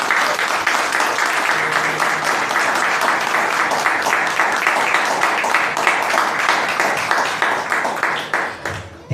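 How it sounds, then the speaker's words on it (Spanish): A church congregation gives a strong round of applause, dense steady clapping filling the room at full volume before it thins and breaks off abruptly at the end. "Dale un fuerte aplauso a nuestro Padre."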